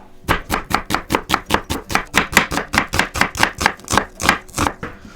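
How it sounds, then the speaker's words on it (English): Vegetables chopped with a knife on a cutting board while making a coconut-oil recipe, a steady, close rhythm of about twenty crisp chops over five seconds with no talk. "Let's chop these things up first, though."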